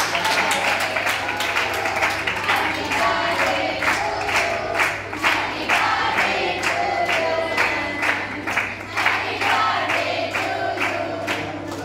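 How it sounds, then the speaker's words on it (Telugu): A group claps steadily and rhythmically for someone's birthday, with crowd voices and cheers mixed in and a constant low hum underneath. "క్లాప్స్ కొట్టండి."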